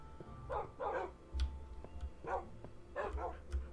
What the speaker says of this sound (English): They have all these dogs.